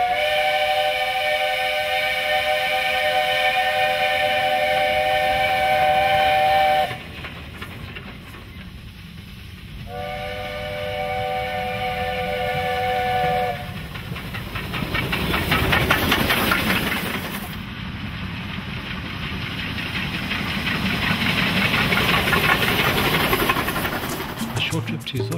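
The whistle of a Garratt steam locomotive on the Banana Express at the Ikocha terminus sounds twice in long, loud, steady multi-tone blasts, followed by a loud surge of hissing steam that rises and fades.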